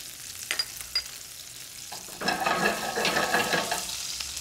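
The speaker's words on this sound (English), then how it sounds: "I'll throw just a little touch of butter in. It's going to give us that brown butter," Lamb meatballs frying in a pan with a small knob of butter, a soft sizzle that swells loudly after a couple of seconds and holds steady, with light clatters near the start.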